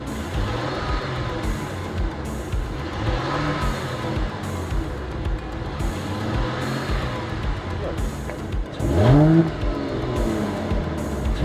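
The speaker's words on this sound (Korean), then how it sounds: "자 이제 배기음 들어보실게요" A Mercedes CLS 450 with a JSR variable exhaust revs repeatedly, rising and falling in pitch, with a sharper, louder rev near the end.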